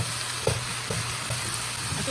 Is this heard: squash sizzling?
yes